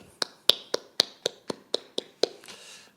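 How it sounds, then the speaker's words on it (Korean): A church congregation at a Korean Sunday worship service claps for God: eight sharp, evenly spaced claps in a steady rhythm, close and clear, ending in a brief scattered wash of hand noise. "우리 하나님께 감사와 영광의 박수를 올려드리겠습니다"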